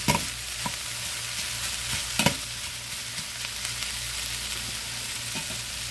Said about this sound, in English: hear them onions and peppers sizzling